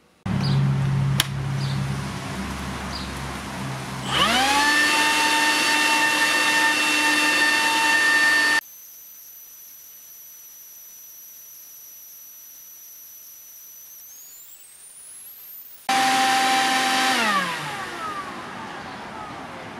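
Makita 18-volt cordless blower running on battery, a loud steady whine with rising tonal pitch as it spins up, then a stretch of near silence with a thin high tone, before the blower roars back and winds down.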